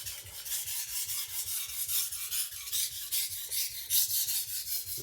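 A MagnaCut chef knife being sharpened on a whetstone, with continuous close rasping strokes of steel across the stone in a steady back-and-forth rhythm.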